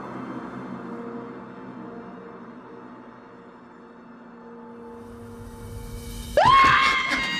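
In a Korean TV drama scene about demonic possession, a sudden sharp scream breaks out near the end after several seconds of low, quiet hum, loud and close.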